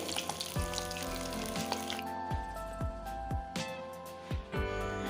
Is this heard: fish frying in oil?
yes